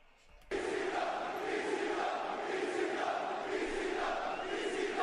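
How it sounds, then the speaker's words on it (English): Wrestling arena crowd at an AEW Dynamite show in Detroit, loud and sustained cheering and chanting from a packed house that surges in suddenly and holds steady, a dense roar with no single voices standing out. "This crowd's fired up, and I love it."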